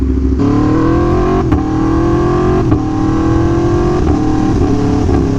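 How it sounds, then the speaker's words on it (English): An Aprilia Tuono V4 Factory motorcycle engine revs hard and climbs steadily in pitch, a loud close roar with brief dips between pulls. "The sound that this engine makes had a huge influence in my decision to purchase this motorcycle."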